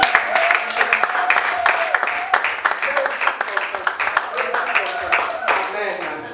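Church congregation applauding and cheering to acclaim the Lord during a French-language service, a dense continuous wash of clapping with voices mixed in throughout.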